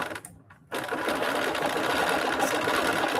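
A sewing machine free-motion stitches a raw-edge appliqué, starting after a brief pause and then running as a continuous, close, loud whirring drone.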